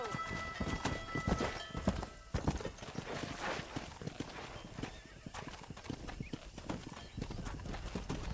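Horse hooves gallop in steady, rapid clip-clop in the Red Dead Redemption video game, with occasional whinnies and neighs over a busy outdoor soundscape; faint voices come and go in the background.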